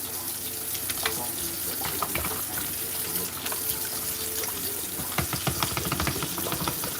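A paintbrush is rinsed in a small container of water, heard as continuous splashing and sloshing with repeated sharp swishes and drips, close and fairly loud, with faint talk in the background.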